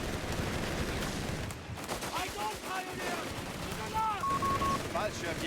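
Machine gun fire in Company of Heroes during a match between German and American forces: dense, rattling bursts of gunfire mixed with other battle noise, running steadily beneath a commentator's voice.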